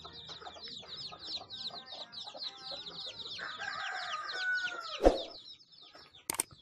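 Several chickens cluck busily over village ambience, with a rooster's crow rising partway through and a sharp bang near the end.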